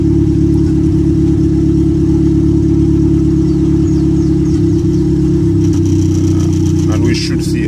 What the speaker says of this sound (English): we throw some fuel back in it just to get it to idle